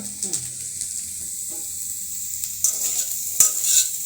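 Boiled potato bhaji sizzles steadily in a hot pan while a spatula stirs and scrapes it, with a few sharper clacks against the pan near the end; the frying hiss is close and continuous.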